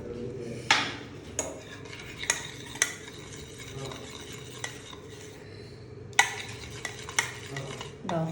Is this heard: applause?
no